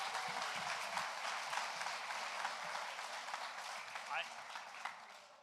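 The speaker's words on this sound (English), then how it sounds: "Big round of applause" Sustained applause from a crowd at a Lunabotics robotics competition event, steady dense clapping filling the space, somewhat distant and moderately quiet, with faint voices mixed in.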